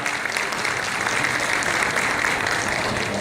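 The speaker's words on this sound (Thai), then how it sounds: "ผมขอให้พวกเรา ปรบมือให้ท่านกรรมการผู้การใหญ่" A crowd applauds steadily at a farewell speech for a deputy managing director, a dense wash of many hands clapping at an even level throughout.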